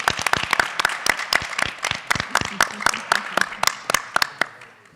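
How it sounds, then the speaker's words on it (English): A round of applause for a school district's hosting administrative team at a public schools board meeting in a little theater, a small crowd clapping briskly and steadily for several seconds with sharp, close individual claps. "Let's give them a round of applause."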